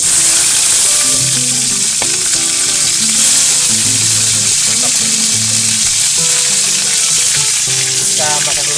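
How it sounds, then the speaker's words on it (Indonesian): Frogs fry in hot oil in a wok, a loud, constant close sizzle with occasional stirring clinks throughout. "sekarang kita mau masukin dulu kodoknya ke dalam katel."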